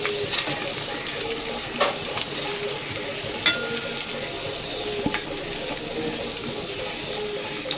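Prawns sizzle and fry in a pan as bottle gourd leaf paste is stirred in, a continuous crackling hiss with clattering scrapes and knocks from utensils, close and steady, without talking.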